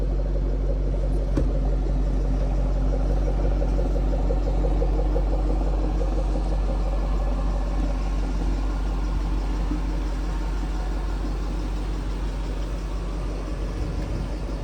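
A 2014 Ford Shelby GT500 idles steadily, its engine and exhaust giving a continuous low rumble that holds even throughout, with no talk.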